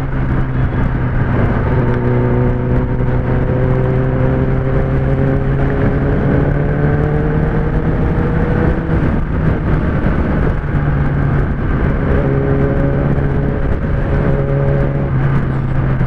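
A Kawasaki ZX-10R engine droning steadily while riding, with gear-by-gear rising revs that climb, drop back and climb again, loud and continuous throughout with no talk.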